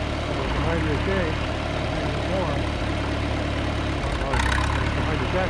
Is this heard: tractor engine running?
yes